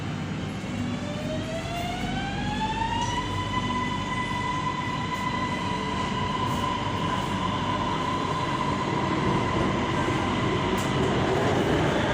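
Steady rumble of an MRT Blue Line metro train in Bangkok running, heard from inside the carriage, with a rising electric motor whine that climbs and then holds as it speeds up.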